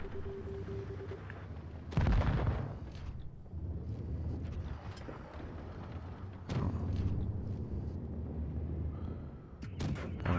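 Tank cannon fire in World of Tanks Blitz, with a German Tier IV heavy tank shooting at an enemy Leopard; two loud, sharp blasts ring out about four seconds apart over a continuous engine rumble and battle noise.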